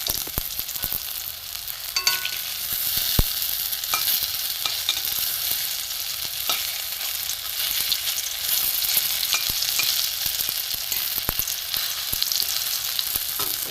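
Prawn-head fritters (bora) frying in hot oil, giving a steady, dense crackling sizzle for the whole stretch, with a few sharp clicks from a utensil turning them.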